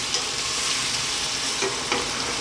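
Chicken and mushrooms stir-frying in sesame oil over high heat, a steady loud sizzle close up with a few soft stirring scrapes and no talking.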